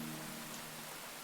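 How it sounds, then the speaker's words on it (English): Steady rain from the video game Rain, a soft, even hiss of falling drops that fills the background with no talking. "Now, the rain is too loud?"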